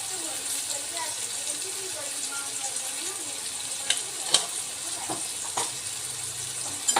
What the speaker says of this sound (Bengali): একটু আলুটা ভাজা হতে থাক,